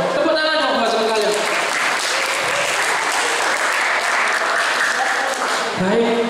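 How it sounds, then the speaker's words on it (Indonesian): Students applaud at a school disaster-preparedness drill at a Surabaya junior high, lively clapping spreading through the group while a voice talks over the start and the clapping continues steadily beneath. "Tepuk tangan dong buat sekalian."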